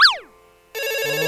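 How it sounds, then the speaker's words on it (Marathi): A mobile phone rings on a comedy stage, opening with a sweeping electronic chirp that fades into near silence, then a steady tonal ringtone with layered harmonics starts up loudly and keeps going, with no talk over it. "अरे फोन वाजतोय तुझा."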